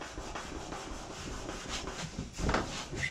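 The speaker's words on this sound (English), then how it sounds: "Got an eraser? Rub it." A pencil mark being rubbed off with an eraser, a steady close scrubbing in short back-and-forth strokes, quiet and alone with no talk.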